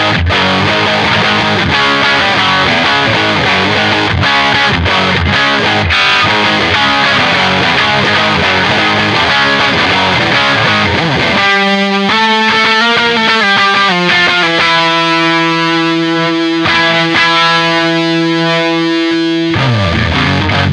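Harley Benton TE-20HH electric guitar played loud through heavy, chunky distortion, with chugging palm-muted riffs giving way to sustained ringing chords.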